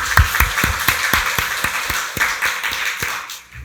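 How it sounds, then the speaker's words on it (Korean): A church congregation at Sunday worship claps together in praise, loud and close, with strong rhythmic beats in a steady pulse through a wash of scattered hand claps that fades at the end. "박수로 하나님께 영광 돌리겠습니다"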